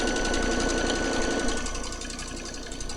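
Domestic sewing machine running steadily while free-motion quilting stitches through layered fabric, a continuous close-up mechanical whir with rapid needle-beat rhythm, easing slightly toward the end, no voices.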